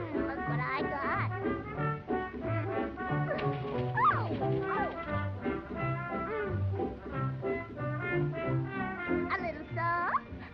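Pudgy, a small cartoon dog, barks and yips repeatedly in quick bursts throughout, some sounding whimpery, over a steady bouncy musical backing.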